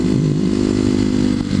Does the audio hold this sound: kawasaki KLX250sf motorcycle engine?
yes